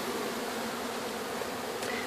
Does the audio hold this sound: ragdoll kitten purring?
no